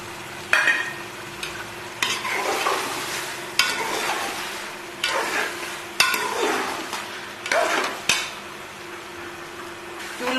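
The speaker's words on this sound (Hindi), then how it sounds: "अभी मैं इसमें मेथी और ये गरम मसाला डाल दूंगी और मिक्स कर दूंगी अच्छे से" Aloo gobhi with fenugreek and garam masala is stirred in a pan, a spoon scraping and clanking against the metal in repeated strokes about every two seconds over a low, steady sizzle, close by with no talking.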